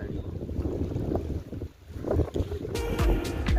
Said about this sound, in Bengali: নৌকার আওয়াজ আর হাওয়ার আওয়াজটা শুনুন খালি